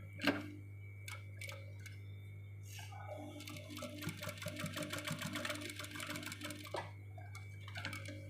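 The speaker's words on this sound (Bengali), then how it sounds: "আমরা 2 সুতা এক কথা 1/4 বরাবর আমরা আরেকটি ডাবল সেলাই দিয়ে দিলাম।" A sewing machine runs a double line of stitching along a polo shirt's front placket, producing a rapid, rhythmic ticking over a constant low motor hum. The stitching builds steadily through the middle of the clip and no one talks.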